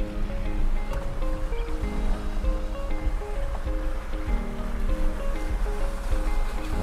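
A Jeep Gladiator fords a river on the Crooked River Track, with continuous splashing and rushing water over a low engine drone, steady and close throughout.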